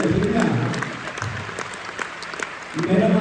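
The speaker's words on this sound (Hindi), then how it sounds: "अच्छे के लिए जोरदार ताली होनी चाहिए" Audience clapping for a health-products talk, a broad wash of applause swelling at the start and again near the end, with scattered claps and voices between the bursts.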